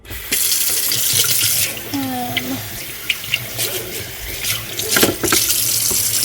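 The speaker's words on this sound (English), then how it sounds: "I'm going to fill up my sink." Tap water runs steadily into a kitchen sink, a continuous close splashing rush with occasional drips and clinks of dishes.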